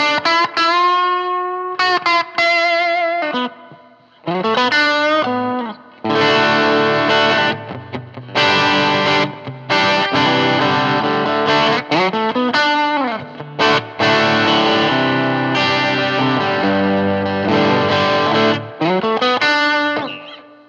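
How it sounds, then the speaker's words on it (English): Electric guitar on its Telecaster-style pickup driven through a Barber Gain Changer overdrive, playing loud distorted chords and sustained notes with brief gaps, alone and close. "This is the Barber gain changer drive you're hearing now."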